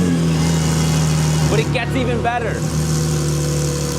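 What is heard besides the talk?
Porsche 992 911 exhaust revving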